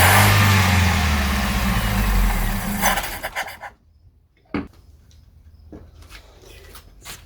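A 1986 Honda Civic CRX HF engine that has sat unused for years roars loudly at first, then sputters and dies into near silence, followed by a few faint clicks and rough attempts to restart.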